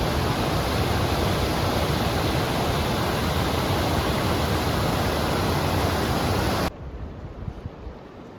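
A rushing mountain stream on the Kashmir Great Lakes trek near Sonmarg makes a loud, dense, continuous roar that cuts off abruptly near the end, leaving quieter background.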